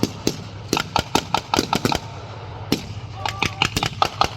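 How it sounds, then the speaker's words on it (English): Live gunfire from a Marine squad laying down a base of fire during an assault demonstration: repeated sharp cracks in quick irregular bursts, loud and close, with a brief lull before more shots. "This whole time there's a base of fire from everybody."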